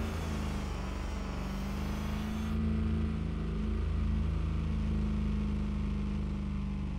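A car engine in the Revhead driving game hums steadily at a constant drone, with the pitch lifting slightly partway through, loud and alone with no talk.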